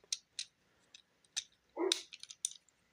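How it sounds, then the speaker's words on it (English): A dog barks several times in short, sharp yelps, sounding fairly far off and faint against a quiet indoor background, with one longer, fuller bark near the end. "Is that one of your dogs?"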